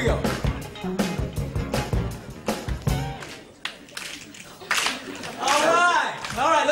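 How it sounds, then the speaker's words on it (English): A 1980 television variety show studio audience snaps their fingers together in a loud, dense, crackling burst, with a host's voice speaking over and between the snapping. "Everybody, snap your fingers. Snap your fingers. Really loud."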